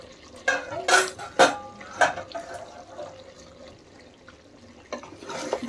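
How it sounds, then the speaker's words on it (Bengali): Chicken stirred in a cooking pot, with several sharp clanks of a metal spoon against the pot and softer scraping between them, close and moderately loud. "দেখেন আবার একটু নেড়ে দিচ্ছি।"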